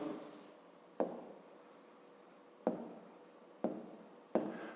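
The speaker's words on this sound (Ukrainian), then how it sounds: "Тоді записуємо числа." Numbers written by hand on paper, a faint scratchy pen stroking in several short bursts, each opening with a sharp tap as the pen touches down, with no talking.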